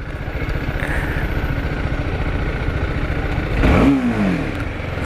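A TVS Apache RR310 motorcycle engine runs steadily, then is blipped hard near the end into a loud rev that rises and falls away, its exhaust note close and alone with no talk.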